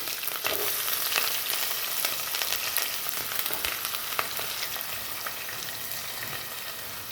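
Chana dal, urad dal, onion, green chilli and curry leaves frying in oil for a bean stir-fry, a continuous dense sizzle with occasional crackles and light stirring scrapes.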